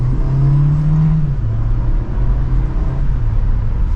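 A 2024 Volkswagen Jetta SE pulls hard from second gear, its engine drone loud and close with a low tone that holds steady and then steps down as the revs change, heard alone with no talking.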